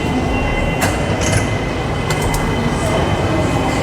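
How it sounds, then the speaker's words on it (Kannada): An airport express train arrives with a steady rumbling roar, faint brake squeals and metallic clicks over the constant noise of the car, with no talking. "ಸೊ ಟ್ರೈನ್ ಬಂತು, ಏರ್ಪೋರ್ಟ್ ಟ್ರೈನ್"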